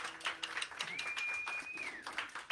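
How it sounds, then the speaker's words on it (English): An audience at a composers' showcase at a music festival claps in a faint, steady round of applause. A thin whistling tone rises briefly over the clapping. "so let's give a round of applause there."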